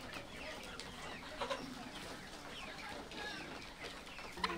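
Young laying hens on a poultry farm cluck and chatter in a dense, continuous flock, soft scattered calls overlapping against a low barn background.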